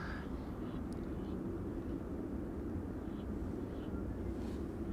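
KLM Boeing 787-9 Dreamliner arriving at Amsterdam Schiphol Airport, a faint, distant, steady jet roar with broad low rumble, heard alone and continuous.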